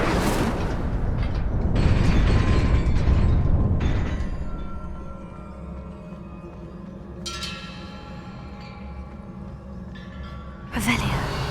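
Incendio fire spell cast in Hogwarts Legacy, a loud burst of flame and roaring whoosh over the first few seconds that fades into a quieter ambient hum, with another sharp burst near the end; a voice speaks.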